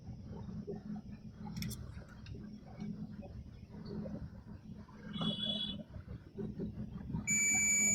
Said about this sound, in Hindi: तो ये आपस में बीप करेगा